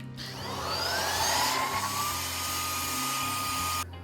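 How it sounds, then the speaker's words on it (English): A steady, loud vacuum motor whines close by as it vacuums dusty leaves, its pitch sliding upward and then holding, before cutting off abruptly near the end. "Am I allowed to vacuum dusty leaves?"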